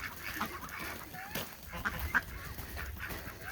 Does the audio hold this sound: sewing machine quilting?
no